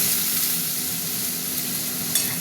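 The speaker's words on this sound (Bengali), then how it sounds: "ভাজা হতে থাক আলুগুলো।" Potatoes frying in a pan over an onion and tomato base for a pointed gourd and potato dish with yogurt and mustard, a constant close sizzle with a soft stirring scrape near the end.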